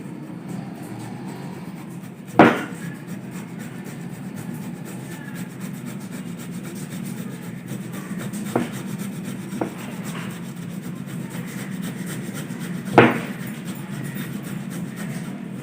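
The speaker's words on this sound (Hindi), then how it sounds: "सबसे पहले हम कद्दूकस कर लेंगे आलू को" Potatoes are grated by hand for chapli kabab, a steady close rasping rub against the grater with a few louder knocks as the grater shifts, no voices.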